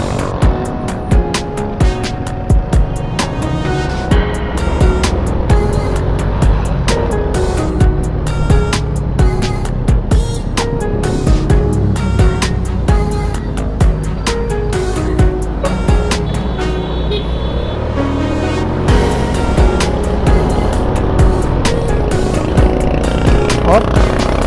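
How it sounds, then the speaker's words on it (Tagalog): Street traffic in Manila rolls past during a ride on a Sym Bonus 110 motorcycle, the engine drone loud and close throughout, with frequent horn-like clicks and rattles and a voice speaking over it. "traffic dito sa Maynisan ah."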